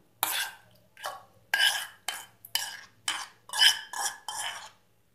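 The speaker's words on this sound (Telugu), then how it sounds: "ఇదంతా బాగా కలుపుకోవాలి." Cooked rice is mixed with tamarind pulihora paste, probably by hand or spoon, giving about nine short, rhythmic scraping and squelching strokes, close up with brief silences between them.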